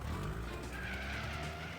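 A car in the video game Rose Guns Days speeds off with skidding, squealing tires, a continuous engine roar and screech heard close and steady over a short stretch, with no talking.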